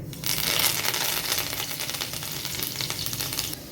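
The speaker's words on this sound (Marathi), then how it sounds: "सगळ्यात आधी मी फोडणीमध्ये कोथंबीर टाकते" Coriander dropped into a hot oil tempering, a sudden loud crackling sizzle close by that stays steady for several seconds before easing.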